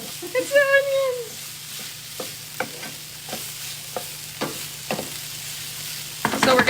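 Chowmein cooking in a pan, a quiet steady sizzle under a low hum, with a voice at the start and sharp utensil scrapes and taps every half second or so, ending in a louder burst of frying.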